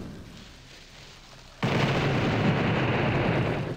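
A dynamite blast in the shooter game Blood goes off abruptly after quiet ambience, a loud, broad explosion that stays as a sustained roaring rumble to the end.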